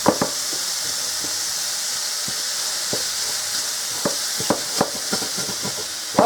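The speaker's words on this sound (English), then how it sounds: "I'm just going to let that brown up a little bit" Ground beef sizzles and fries steadily in a skillet, a continuous hiss broken by occasional scrapes and stirs of a utensil against the pan, close and moderately loud with no talk.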